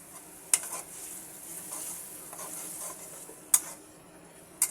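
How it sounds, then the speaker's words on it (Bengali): Prawns frying in a pan give a continuous close sizzle, broken by three sharp utensil clicks against the pan, one early and two near the end. "চিংড়ি মাছটাকে আমি এখন খুব সুন্দর করে জাল করে নেব।"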